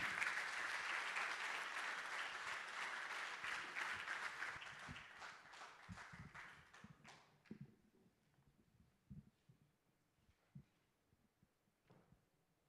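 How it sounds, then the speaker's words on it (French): Applause from the audience at a 2018 African handball ceremony greets the confederation president, loud and dense at first, then thinning to scattered claps and fading out over the second half. "sous vos applaudissements, s'il vous plaît"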